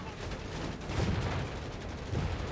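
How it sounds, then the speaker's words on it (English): Artillery fire hitting a position in a 4v4 match of the World War II strategy game Company of Heroes 3, with dull, distant booming impacts rolling under a continuous battle din, two heavier thumps standing out. "Now we have artillery hitting that position."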